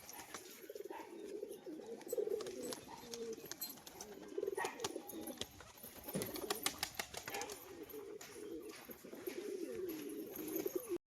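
A female pigeon coos in repeated low, soft, rolling phrases, accompanied by scattered clicks and rustling nearby.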